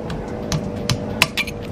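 Sharp metallic hammer strikes ring out one after another at an uneven pace while tapping new clips onto a car transmission part, each tap bright and close over a low background hum.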